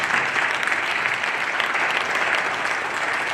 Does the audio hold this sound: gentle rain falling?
no